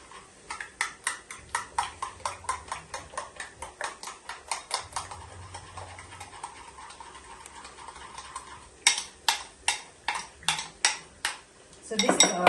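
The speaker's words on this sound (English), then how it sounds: "So you just mix." Donut dough mixed with butter in a bowl, a utensil tapping and scraping the bowl in quick, steady rhythmic strokes that pause briefly, then resume faster near the end.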